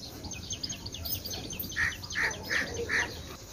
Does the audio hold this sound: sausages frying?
no